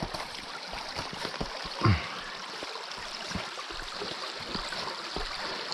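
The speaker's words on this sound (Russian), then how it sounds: "Журчит ручей." A small stream of spring meltwater runs past a cabin where the snow has thawed, a soft continuous babble and trickle heard at moderate distance, with one brief low thump and no voices.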